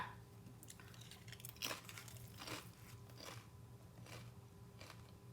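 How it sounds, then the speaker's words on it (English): A chip is chewed close to the mic in a quiet room, giving several soft crunches spread unevenly over a few seconds, with no talking. "I had to finish chewing my chip."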